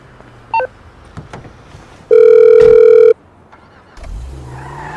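In the game GTA V, a phone dials with a few short button tones, then gives one loud sustained ringing tone, followed by low engine and road noise in the background.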